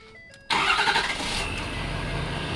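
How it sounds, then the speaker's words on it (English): Diesel truck engine cranks and catches after a quiet moment, then settles into a steady, loud rumbling idle close by, with no talking over it. "Let's try and start this thing. Yeah, boy. Let's get that truck running."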